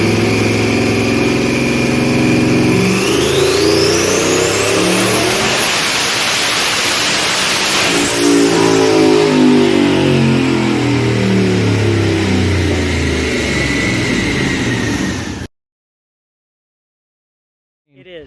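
A 1800 HP Cadillac CTS-V with a 427ci LSX engine and twin 76mm turbos on 40 psi boost, revving hard up and down for about fifteen seconds, loud and close, then cutting out to near silence.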